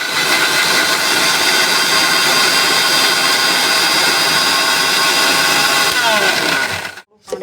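A mixer grinder runs steadily at full power, blending stalk-on coriander with a splash of water into a dense, loud whirring roar that cuts off abruptly near the end.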